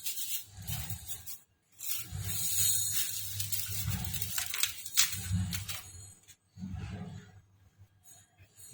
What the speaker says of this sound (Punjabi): ਸਾਰੇ ਗਲਾਸਾਂ ਤੇ ਇਹ ਜਿਹਾ ਆਪਾਂ ਰੋਟੀ ਲਵੇਟਣ ਵਾਲਾ ਪੇਪਰ ਦੇ ਦਵਾਂਗੇ ਇਸ ਤਰ੍ਹਾਂ ਇਹਨੂੰ ਕਵਰ ਕਰ ਦਵਾਂਗੇ